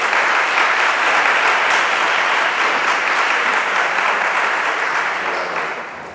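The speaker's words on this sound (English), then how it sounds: "I'll make you stop clapping because I know your hands are starting to hurt." Town hall audience clapping steadily and loudly in a dense wash of applause, with no voices, thinning slightly toward the end.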